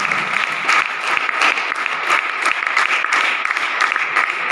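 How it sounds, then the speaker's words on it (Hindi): A crowd at a Hindi business motivation event claps loudly for a leader, a thick, sustained burst of many hands with sharp individual claps standing out, close and continuous from start to end. "जोरदार तालियां"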